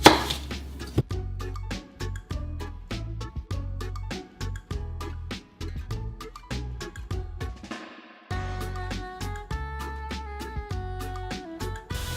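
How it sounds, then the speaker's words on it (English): A knife chops onion finely on a board in a steady series of crisp, evenly spaced strikes, close up, with no talking. "Chop your onion nice and fine."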